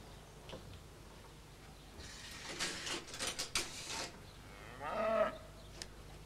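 Cows low in short mooing calls at a farm, a few bursts of lowing over quiet background with some faint mechanical clicks.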